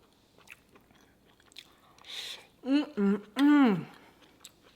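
Someone bites into chicken tikka masala with rice, giving soft, close chewing and mouth sounds, followed by loud appreciative humming.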